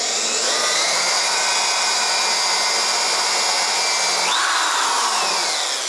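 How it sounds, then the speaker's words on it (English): A power drill bores starter holes into press board for a hinge-clamp screen printing board, making a loud continuous close whine whose pitch rises briefly near the end. "I'm just drilling like holes to get them started because it's press board and such."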